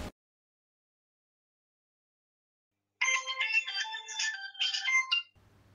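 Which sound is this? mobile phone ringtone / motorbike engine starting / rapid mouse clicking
mobile phone ringtone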